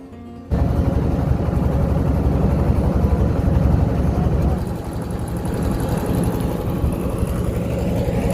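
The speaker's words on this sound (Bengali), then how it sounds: "বাইক, কত বাইক।" Steady, loud engine drone from motorbikes moving across a sandy riverbank, a continuous close rumble that shifts slightly midway as vehicles pass.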